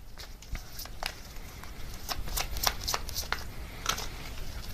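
Tarot cards are shuffled by hand in a quiet room, a string of soft, quick riffling snaps and flutters repeating at an uneven pace, close and gentle, with no voices.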